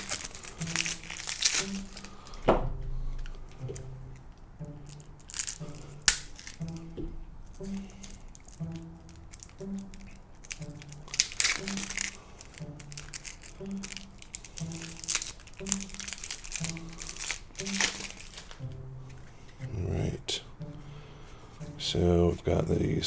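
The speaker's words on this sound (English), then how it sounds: "So now we have these 2 decks of cards. Open both of these up real quick." Two decks of playing cards being unwrapped, with plastic cellophane crinkling and crackling in bursts close by, alongside handling of the card boxes and a low speaking voice throughout.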